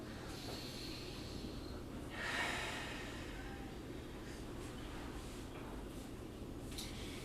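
A deep exhale during a Pilates mat stretch: one long, close breath of airy hiss that swells and fades over a faint steady room hum.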